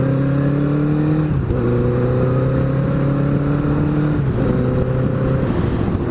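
A Nighthawk motorcycle with a low front fork and uneven handling is ridden. The loud, steady engine drone rises in pitch through the gears, with two brief dips where it shifts before climbing again.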